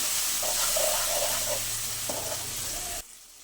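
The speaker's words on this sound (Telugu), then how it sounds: "టొమాటో ముక్కలను కూడా వేసేద్దాం వేసి నీట్గా వేయించుకుందాం" Tomato pieces sizzle in a pan with golden-fried onions, a dense steady frying hiss with a few brief stirring scrapes, close and loud, cutting off abruptly near the end.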